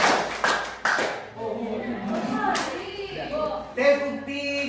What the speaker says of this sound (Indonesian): Tepuk dua kali.